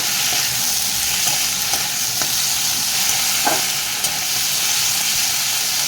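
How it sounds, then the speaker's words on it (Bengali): Ginger paste and tomato fry in hot oil for Bengali-style masoor dal, giving a steady, close sizzle with soft stirring scrapes throughout and no voices. "আদাটাকেও ভালো করে ভেজে নেব"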